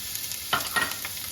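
Onions and peppers frying in oil, a soft, low sizzle with a couple of quick stirring scrapes near the middle of the moment.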